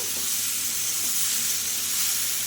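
A vegetarian vegetable curry fries in a pan with a loud, steady, dense sizzle and hiss that runs unbroken throughout, with no talking.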